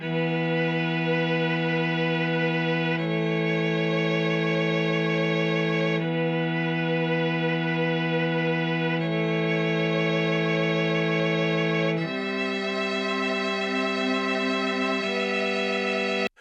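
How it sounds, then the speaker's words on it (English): E-mu Emulator sampled synth strings play slow sustained chords, shifting to a new chord every few seconds, lush and steady with no voices. "we liked the EMU emulator strings so much."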